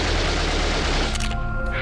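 Gunfire outside during a 911 emergency call: a dense, loud barrage of rapid bursts fills the opening second before easing into a quieter, ringing tail.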